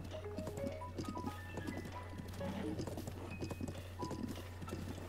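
Horses clip-clopping in Zelda: Breath of the Wild, soft rhythmic hoofbeats at night amid a low steady drone and faint tonal game music, with occasional murmuring.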